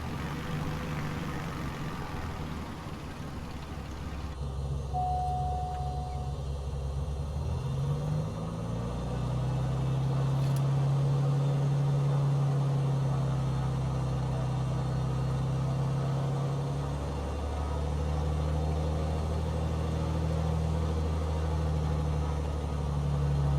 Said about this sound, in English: Start the engine back up.